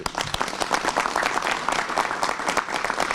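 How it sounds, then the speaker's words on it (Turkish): An audience at a neighbourhood visit event claps in sustained applause, a dense crackle of many hands that stays fairly loud and even from start to finish. "Önce hepiniz birbirinizi alkışlayalım."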